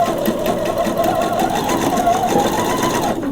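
Sewing machine backstitching a seam on lace underwear, a fast continuous mechanical whir running steadily and close up.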